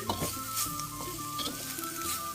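Sizzling from a pan of spicy stir-fried field rat with basil and vegetables, close and steady, with quick scraping stirs and a sharp clank at the end, no voices.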